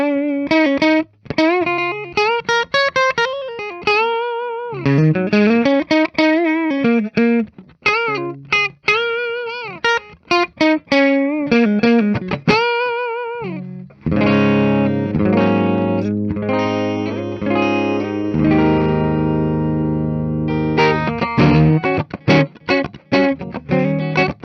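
Gibson Peter Frampton Phenix electric guitar played through its middle pickup alone with the other two volumes at zero, giving distorted single-note lead runs and then heavier sustained chords with effects, loud and continuous throughout.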